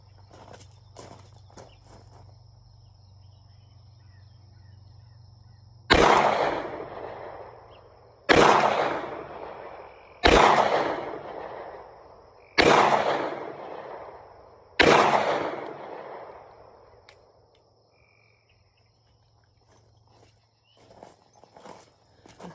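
A trail and hiking pistol with a 3-inch barrel is fired at a target five times. Loud, close reports with echoing decays are spaced roughly two to three seconds apart, and faint handling noises come before and after.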